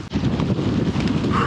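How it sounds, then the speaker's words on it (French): Strong wind gusting through a Brittany forest during a gravel bike race, a loud continuous rumbling buffet across the microphone with no pauses. "comme vous pouvez certainement l'entendre, je blaguais pas sur le vent"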